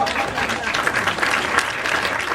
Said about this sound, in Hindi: अगर समझ में आ गयो तो ताली बजाओ आप